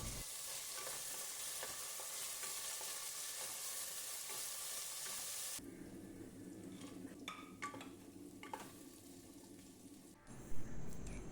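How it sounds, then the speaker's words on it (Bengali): Vegetables fry with bay leaf, dried chilli and whole spices in oil and a little ghee, a bright loud sizzle that drops to a quieter crackle with scattered clinks and scraping of a utensil near the end. "প্রথমে সাদা তেলের মধ্যে অল্প একটুখানি ঘি দিয়ে তাতে তেজপাতা, শুকনো লঙ্কা, গোটা গরম মশলা দিয়ে একে একে সবজিগুলো হালকা করে ভেজে"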